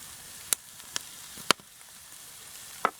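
Pork sausage cooking in a cast iron pan with pepper and salt: a quiet background hiss broken by four sharp, isolated spits and pops spread out over a few seconds.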